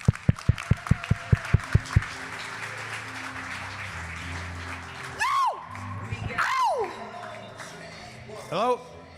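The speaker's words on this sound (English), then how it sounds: "Let's make a big round of applause for Kyle Ring." Applause and cheering from a boot camp audience greet a speaker, starting with a few sharp, loud claps that give way to a crowd clapping and whooping, with voices calling out over the noise.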